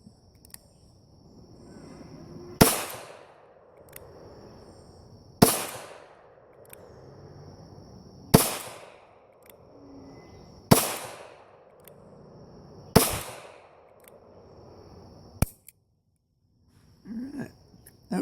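Five sharp pistol reports from a 38 Special firing 95-grain bullets over 3.5 grains of clayDot shotshell powder at an outdoor range, evenly spaced a few seconds apart, loud and close with short decaying echoes.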